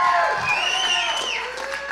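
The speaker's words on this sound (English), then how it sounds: "Clap a little louder for that" Wedding guests cheering and whooping at a freakshow-themed celebration: a brief, loud burst of crowd shouts and whistling voices filling a room, fading slightly toward the end.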